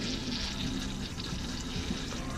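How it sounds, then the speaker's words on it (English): About a gallon of water pours steadily into the black holding tank of a Keystone Cougar RV, a continuous broadband splashing rush that lasts the whole moment without pause. "Drop it down, figure about a gallon of water."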